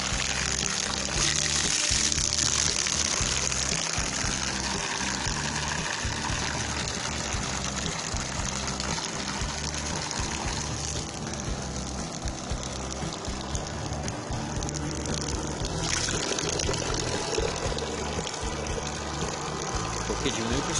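Homemade water pump running steadily and spraying water, a continuous motor drone with a pulsing hiss of water throughout, fairly near.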